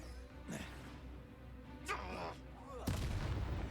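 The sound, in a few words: Confringo fire spell being cast in the video game Hogwarts Legacy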